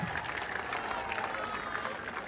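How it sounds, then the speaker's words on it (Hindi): A crowd at a political rally claps steadily, a continuous wash of many hands heard from a distance for a couple of seconds. "जोर से बजाइए ताली"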